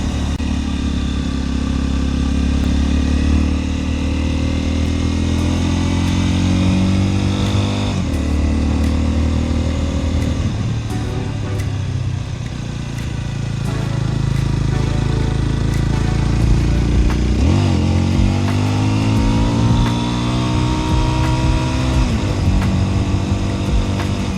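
A motorcycle engine on Japanese countryside roads drones loud and close throughout, its pitch rising and falling as the rider works the throttle. Wind rush runs over a steady rumble, with a brief dip in level partway through.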